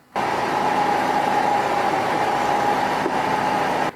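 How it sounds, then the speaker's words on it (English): A 2012 Chevy Malibu engine idles after warming up, under suspected exhaust cam position actuator solenoid trouble, giving a steady, continuous hum with a faint tonal whine that holds evenly until it cuts off near the end. "So the engine has been running for about 10 minutes, 16 seconds"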